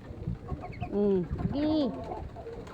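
Domestic ducks being fed, a few close nasal calls and soft bird sounds over a short moment, with a person speaking briefly nearby.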